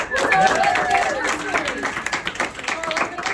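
An audience at a comedy theater show claps and applauds, a dense, fairly loud patter of hands lasting a few seconds with voices mixed in and cheering over it.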